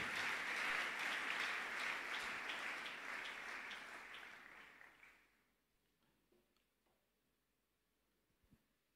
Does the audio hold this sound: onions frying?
no